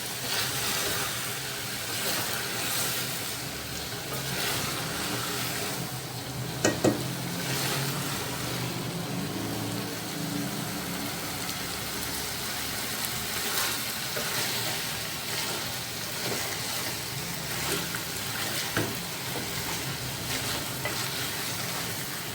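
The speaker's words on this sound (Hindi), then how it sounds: "अब मैं इसको इतना फ्राई कर रही हूँ कि इसका पानी अच्छे से खुश्क हो जाए" Chicken fries and sizzles in a pan while its water cooks off, with steady crackling and occasional scraping stirs throughout, close and continuous, no talking.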